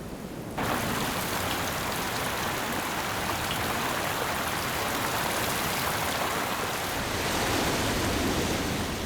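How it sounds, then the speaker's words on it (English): Floodwater rushing through parched Sonoran Desert channels after a heavy downpour, a steady, full-bodied roar that starts abruptly and holds constant, close and loud, with no voices. "Channels that have not felt the caress of water for months or years become raging cataracts"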